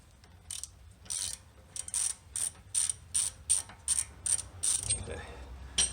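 A 21mm ratchet loosening caliper bracket bolts during a front brake job, giving about a dozen evenly spaced clicking bursts in a steady back-and-forth rhythm, close and fairly clear, with no talk.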